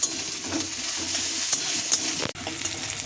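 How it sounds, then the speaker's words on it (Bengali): Steady sizzling of onions frying in a pan, with occasional stirring scrapes and a brief clatter near the end; no talking. "এদিকে আলুটা ভেজে তুলে নিয়েছি পেঁয়াজটা ভাজছি"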